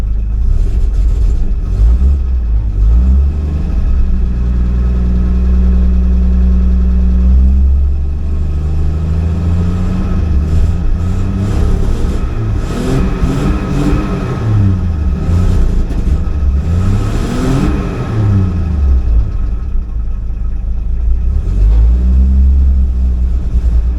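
A car engine runs steadily and loudly throughout, a continuous low rumble with slight swells in pitch, as the choke is pulled out and pushed back in without any noticeable change in the idle.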